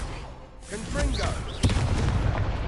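A Confringo spell exploding during a wizard duel in a Hogwarts video game, a booming blast with low rumbling impacts after a voice calls out, followed by a second sharp burst and continuing low rumble.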